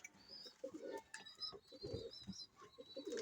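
A pet pigeon coos several times up close, soft throaty rolling calls repeating across a few seconds, with faint chirps and background noise around them.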